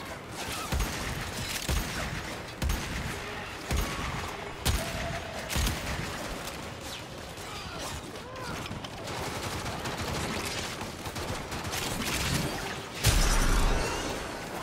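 Shotgun blasts in the co-op shooter Warframe on Xbox One, heavy spaced shots with pauses between them amid busy combat noise, one especially loud blast near the end, with faint voices underneath.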